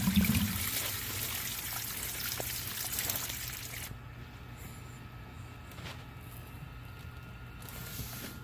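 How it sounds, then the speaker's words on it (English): A sump pump pushes groundwater out of a flooded basement through a pipe, giving a steady, fairly quiet rush and trickle of outflowing water with a slight change in tone partway through. "Look at the amount of water pumping out of this basement every 30 seconds."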